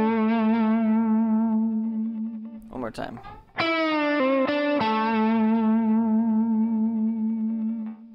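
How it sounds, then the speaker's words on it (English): Distorted electric guitar lick run through effects with chorus-like shimmer, played with string bends and wavering vibrato on the sustained notes, loud and close, with a brief spoken remark midway. "take that same lick and put bending and vibrato on it"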